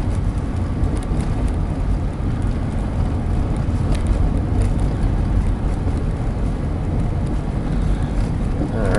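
A Honda Odyssey with EGR trouble (code P1491) cruising at a steady speed, a constant loud rumble of road and engine noise with wind buffeting throughout, no talking.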